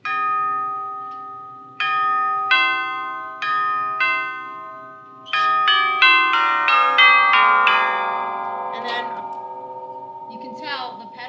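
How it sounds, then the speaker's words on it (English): Chime-like bell tones ring out one after another, each strike bright and sustained, the notes overlapping into a resonant, church-bell-like wash. "So this sounds, to me, it sounds just like a chime, like a church bell."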